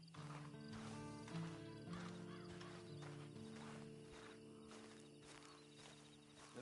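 A horse in the video game Red Dead Online whinnies and snorts close by, with soft hoof clops, over a steady tonal background that runs throughout.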